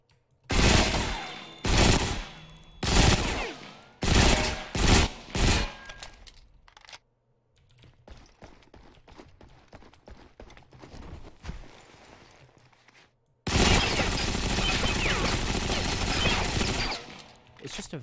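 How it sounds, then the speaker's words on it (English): Bodark SMG gunfire in the video game Ghost Recon Phantoms: loud, close bursts of rapid automatic fire, then a quieter stretch of footsteps and faint movement, then a long sustained burst, with no talking. "it's just a very easy SMG to control"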